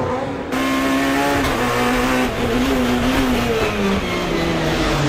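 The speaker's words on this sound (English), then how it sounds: "Ivan Muller, nearly halfway into, or just after halfway into round 7 of the FIA World Touring Car Championship around the streets of Po" FIA World Touring Car Championship touring cars racing on a street circuit, engines roaring loud and continuous with rising and falling pitch as they accelerate and shift, a dense layered drone throughout.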